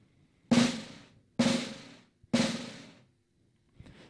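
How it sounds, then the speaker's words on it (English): Three sustained buzzing drum strokes, each a sharp attack that fades over about half a second, evenly spaced, followed by a faint soft tap. "you could implement a buzz stroke"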